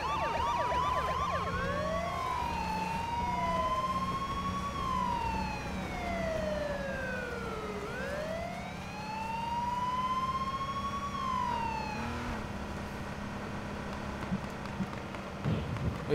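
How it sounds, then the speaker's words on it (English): A police siren in the video game H1Z1 King of the Kill wails, sweeping slowly up and down in long cycles, steady and fairly clear, then switches to a quicker yelp before cutting out. "You want to roll with the sirens on?"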